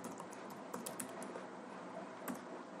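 Someone types a terminal command on a computer keyboard: a quick, irregular run of light clicking keystrokes, close and fairly quiet, with no voices.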